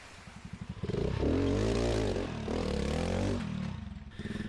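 A self-built Honda Super Cub trial motorcycle with an aluminium fuel tank and modified rear suspension putters at a low idle, then revs up loudly as it is ridden. The engine drops back and surges again before settling into a pulsing idle.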